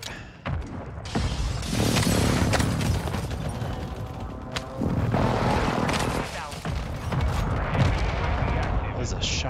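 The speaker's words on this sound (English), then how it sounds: "Mortar strike." Repeated heavy booms and blasts from a mortar strike in Call of Duty Warzone 2.0 Resurgence on Ashika Island, loud and sustained with rumbling impacts, gunfire crackle and people talking underneath.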